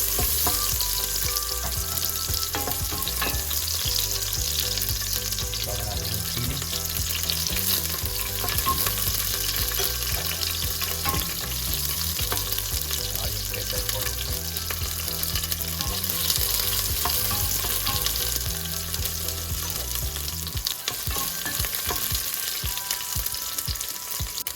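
Onions fry in a pan with garlic for a beef bulalo dish, a loud, continuous close-up sizzle with stirring and scraping throughout and no voices.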